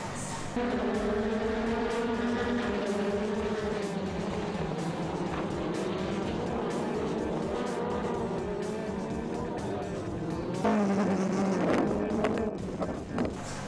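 Race cars in the Toyota Racing Series in New Zealand roar past in a steady, loud engine drone with shifting pitch, and a sharper surge near the end.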